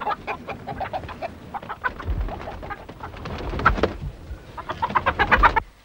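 Chickens cluck in a 1960s rural wartime drama, a busy run of short clucks and squawks from several birds close by over a low rumbling background, with no talk.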